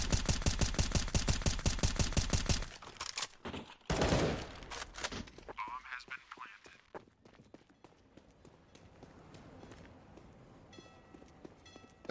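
Rapid automatic spray fire rattles in an even burst during a Counter-Strike esports match between EHOME and TyLoo, followed by scattered shots and softer in-game effects under a commentator's voice.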